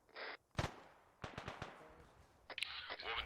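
Scattered gunfire in a military video game: a sharp shot near the start, then a quick cluster of several cracks, with faint radio-like noise bursts around them, fairly quiet overall.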